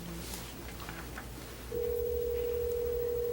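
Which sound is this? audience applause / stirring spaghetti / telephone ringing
telephone ringing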